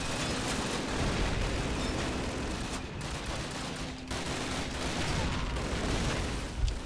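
A tank blast and surrounding gunfire from the first Call of Duty campaign play as a dense, continuous battle din at moderate level, with a few brief dips in the noise.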